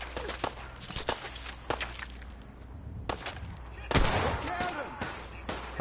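Gunfire in Fallout 4: scattered sharp shots and cracks mixed with footsteps, moderately loud, with a heavier burst of impacts toward the end and no talk.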